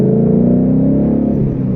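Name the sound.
Ford Mustang with Roush axleback exhaust revving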